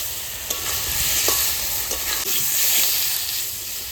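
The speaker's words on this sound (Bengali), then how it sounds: "এবার ভালো করে কষায় নেবে এটা একটু কষানো হবে" Mushroom and fish masala with Kashmiri chilli powder sautéing in a pan, a steady close sizzle broken by scraping, knocking spatula strokes throughout, with no voices.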